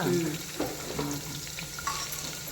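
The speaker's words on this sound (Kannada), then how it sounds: "ಗೋಡಂಬಿನೂ ಹಾಕಿ ಫ್ರೈ ಮಾಡಬೇಕು. ಬೆಳ್ಳುಳ್ಳಿ ಚೆನ್ನಾಗಿ ಕೆಂಪಾಗಬೇಕು." Garlic and cashews frying in a pan for a South Indian dish, a soft steady sizzle with a few stirring scrapes and clinks, close and fairly quiet.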